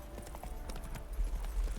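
Horse hooves clip-clopping in the video game Witcher 3, a steady quick rhythm of close, distinct hoofbeats over a low rumbling background, with no talking.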